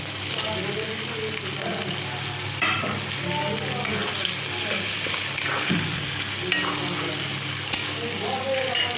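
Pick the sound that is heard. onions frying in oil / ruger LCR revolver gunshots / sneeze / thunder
onions frying in oil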